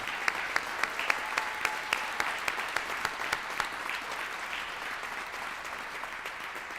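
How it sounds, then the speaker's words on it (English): Guests at an evening induction ceremony give a modest round of applause, a fairly quiet steady patter of clapping with a few sharper individual claps standing out throughout. "So join me in a little applause for Theo"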